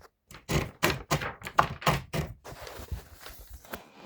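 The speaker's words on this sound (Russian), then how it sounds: "одной рукой придерживаем бумагу, а другой рукой прокручиваем одну из ручек вала." The platen knob of a Hermes Baby typewriter is turned to feed in paper, giving a run of close, dry ratcheting clicks and thunks in quick succession that trail off into softer rustling.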